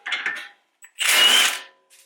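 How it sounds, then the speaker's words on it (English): A power tool whirs in short bursts while the suspension end link comes off a Toyota Camry, one brief burst followed by a longer, louder run and then a faint tail, close by with no talk. "let's see if we can remove the end link without problems"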